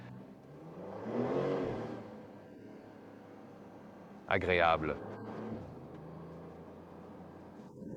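A 2026 Porsche 911 Turbo S Cabriolet engine, top down, swells as it accelerates and then settles, with a brief voice speaking over the steady road noise.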